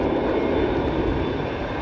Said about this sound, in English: The aircraft naturally crabs, but with the help of flight augmentation.